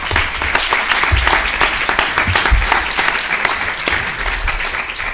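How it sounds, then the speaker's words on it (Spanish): An audience at a privacy panel session of a Spanish internet governance forum applauds the participants, dense sustained clapping from a crowded room that stays loud and steady for about five seconds. "os pido un aplauso para todos los que han intervenido en la mesa"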